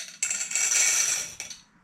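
Glass beads rattle and clink inside a hollow glass art piece being moved, a bright continuous jingle near the mic that starts abruptly, swells, briefly stops, then resumes and fades.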